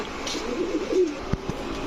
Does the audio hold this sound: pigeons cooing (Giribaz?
yes